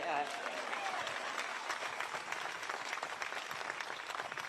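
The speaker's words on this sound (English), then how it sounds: "You can clap at that" An audience at the giant pandas' debut at San Diego Zoo applauds steadily, a dense wash of clapping that carries on throughout at moderate loudness.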